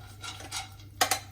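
Chopped almonds with shallots and garlic clink and scrape about a pan in a few faint stirring strokes, with two sharper clatters near the end.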